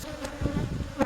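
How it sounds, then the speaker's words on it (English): Bees in a top bar hive in Uganda buzz in a low, agitated drone close by during honey harvesting, with a brief louder buzz near the end. "You can see now the bees are becoming quite agitated."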